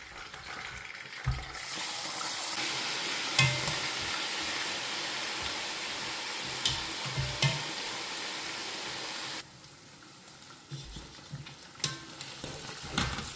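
Onions and scotch bonnet pepper frying in oil, a soft continuous sizzle with occasional utensil knocks and scrapes, dropping slightly quieter partway through.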